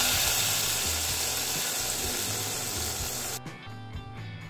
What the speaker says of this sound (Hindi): अब इस तड़के को मैं डालूंगी सरसों के साग में।